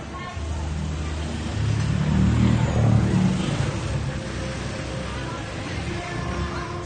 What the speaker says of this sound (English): Many motorbikes.